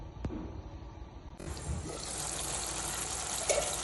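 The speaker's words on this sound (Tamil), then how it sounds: "நீங்கள் குழம்பு வேணும்னா கூட கொஞ்சம் எண்ணெய் ஊற்றி கூட வந்து தண்ணி ஊற்றிக்கோங்க." Water is poured into a pan of simmering chicken gravy, a steady close splashing gush that starts about a second in and runs to the end, with no talk over it.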